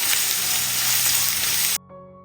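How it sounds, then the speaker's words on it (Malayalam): Chopped medium onion hissing and sizzling in hot oil with curry leaves and dried chillies for a Kerala-style okra and egg curry, a loud steady frying crackle that cuts off abruptly near the end. "ഇതിലേക്ക് ഒരു മീഡിയം സൈസ് സവാള ചെറുതായിട്ട് കട്ട് ചെയ്ത് ചേർത്ത് കൊടുക്കാം"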